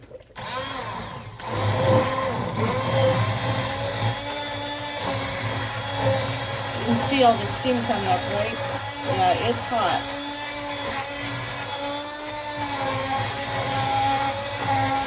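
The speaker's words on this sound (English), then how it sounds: "I just take my little blender, I put it down in here" An immersion blender whirs steadily with a churning, sloshing texture as it blends tomato sauce in a pot, while people talk over it close by.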